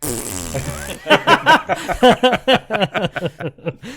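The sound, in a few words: voice imitating farting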